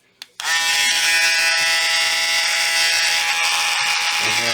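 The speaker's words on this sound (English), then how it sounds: "I had just put a small cutting bit into my Dremel tool." A Dremel rotary tool fitted with a small cutting bit carves a 1/200-scale model part. After a brief click it starts, then gives a steady, close, high-pitched whine that holds without a break.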